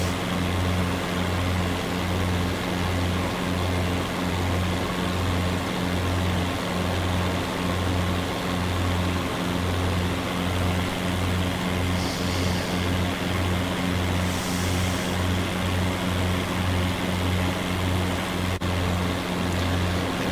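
Propeller aircraft flying a bush flight over New Zealand's South Island coastline, a steady loud engine drone with a pulsing low throb from the propeller, continuous and unchanging throughout.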